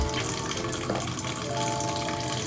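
Warm water runs steadily from a tap into a sink while hands are rinsed, a loud, continuous splashing rush with slight shifts in tone as the hands move through the stream.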